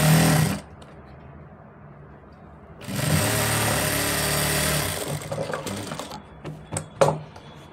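A sewing machine stitches a sleeve seam under piping in two bursts, a short run and then a longer steady whir, followed by scattered clicks and handling noises.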